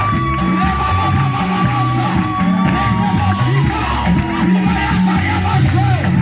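A church congregation at a Sunday worship service cheering and acclaiming, a loud, sustained wall of overlapping shouts, whoops and yells from many voices, rising and falling in waves throughout.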